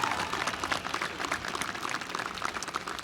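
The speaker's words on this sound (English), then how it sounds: "Let's have a round of applause to them so we show them we remember them." A university commencement crowd of graduates and guests applauds in a steady, even wash of many hands clapping, fairly distant and continuous with no talk.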